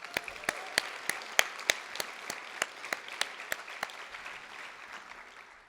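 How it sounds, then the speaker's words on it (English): Sparse, distinct claps from a pageant audience at a scholarship competition ring out one by one, peaking about midway and then thinning and fading toward the end, with no talk over them. "I think that deserves a big round of applause"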